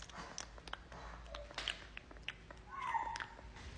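A cat meows several times at close range while being fed gourmet cat food indoors, the short cries coming in quick succession with light household noise around them.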